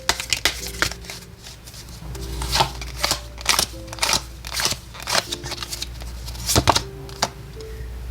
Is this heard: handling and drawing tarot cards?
yes